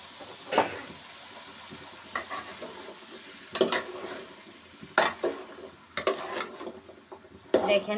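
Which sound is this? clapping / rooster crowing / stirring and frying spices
stirring and frying spices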